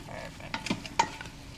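Seasoned meat browning on the saute setting of an Instant Pot, with a soft sizzle beneath a few quick scraping stirs from a utensil against the inner pot.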